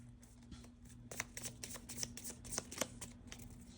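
Tarot cards are shuffled by hand in quick, soft riffling bursts, close and fairly quiet, with a low hum underneath and no talking.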